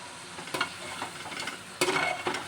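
Ground onion paste fries in a pan with a steady hiss, punctuated by two louder bursts of sizzling and scraping as it is stirred.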